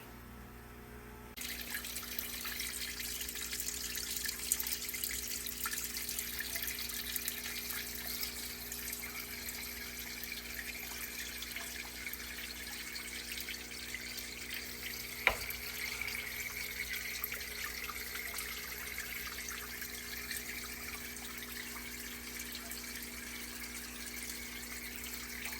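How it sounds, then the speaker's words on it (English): Water runs steadily into a newly set up reef aquarium tank in a garage, a continuous close hiss and splash with one brief sharp knock partway through, no voices. "So I've got water in the tank, it's running now."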